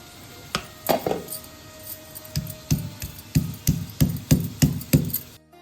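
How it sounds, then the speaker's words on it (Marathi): Garlic crushed in a stone mortar and pestle, heard as a steady series of about ten sharp, close pounding thuds, spaced roughly evenly and growing slightly louder, with no talking. "लसूण देखील आपण खलबत्त्यात ठेचून घेतोय"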